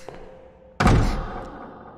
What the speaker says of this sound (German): Oh, immer diese Türen knallen.